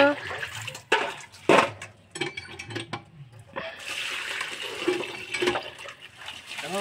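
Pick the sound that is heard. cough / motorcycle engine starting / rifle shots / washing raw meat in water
washing raw meat in water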